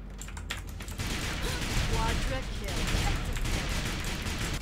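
AK47 rifle fire from the Break Out video game crackles in rapid, sustained bursts, with excited voices talking over it.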